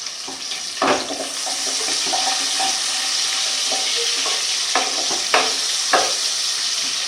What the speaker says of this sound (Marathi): मग ह्याच्यामध्ये मी कांदा टाकते चिरलेला